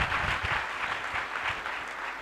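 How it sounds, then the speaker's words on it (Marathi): An audience at a gathering claps together for an honoured guest, a dense, continuous burst of applause lasting the whole moment without speech. "त्यांच्यासाठी एकदा जोरदार टाळ्या."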